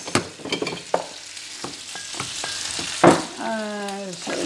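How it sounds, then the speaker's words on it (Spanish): Ingredients for quiche Lorraine sizzle and fry in a pan with intermittent stirring scrapes and clinks, close and moderately loud, with a brief tonal squeak near the end. "mientras se me sofríe aquí está"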